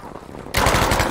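Gunfire from the video game Battlefield V breaks out halfway through as a loud, rapid machine-gun burst of close, repeated shots after a quieter stretch.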